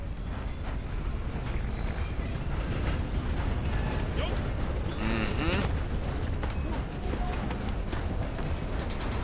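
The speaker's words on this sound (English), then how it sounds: "There goes the train." A steam train in the Red Dead Online video game rumbles past with steady mechanical clatter and a brief whistle-like tone partway through, loud and continuous throughout.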